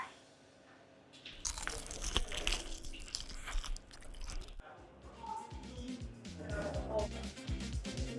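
Crunchy bites into KFC original recipe fried chicken, loud close crackling crunches and chewing in a quiet setting, repeated several times with brief pauses.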